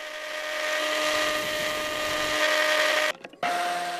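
A disc sander grinds steadily against a wooden knife handle, a loud continuous whine with a steady tone that briefly drops out and shifts pitch near the end as the workpiece is lifted and pressed again.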